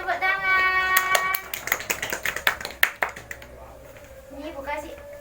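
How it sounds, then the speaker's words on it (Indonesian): A class of students claps in scattered bursts during a classroom lesson, the sharp claps overlapping with voices at the start before the clapping thins out and a quieter voice takes over. "Beri tepuk tangan."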